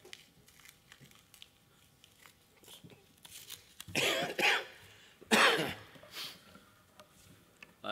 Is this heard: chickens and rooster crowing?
no